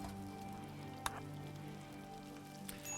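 Rain falls in a colony-building video game, a faint, steady patter on surfaces beneath a low background music bed, with one small sharp tap partway through.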